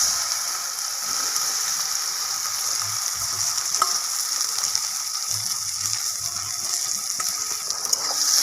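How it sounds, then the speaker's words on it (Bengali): Egg-coated soybean chunks fry in hot oil with a steady, close sizzle that runs continuously, broken by occasional stirring scrapes and clicks. "সয়াবিনটা ভাজা হয়ে গেছে, নামিয়ে নিচ্ছি"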